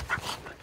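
A hunting dog gives a brief, soft whimper during a rabbit chase outdoors, one short whine near the start and then fading, close and quiet.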